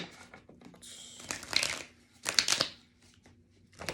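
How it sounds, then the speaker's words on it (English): Tarot cards shuffled by hand in short bursts of riffling and crinkling, a longer run near the start and another sharp flurry mid-way, close and fairly quiet with pauses between. "these cards don't want to shuffle, huh?"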